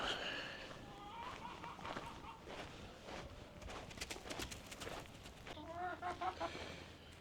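Backyard hens cluck and murmur nearby in soft, scattered calls, with footsteps and rustling movement in the background.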